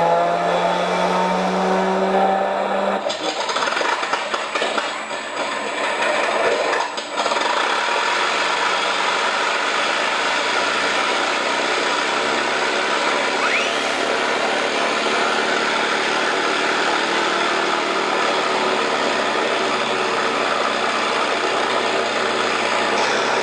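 Simulated P-51D Mustang engine startup from a MrRC onboard sound system in an FMS RC plane, cranking briefly then catching into a steady, loud, continuous rumbling drone that holds throughout with no talking.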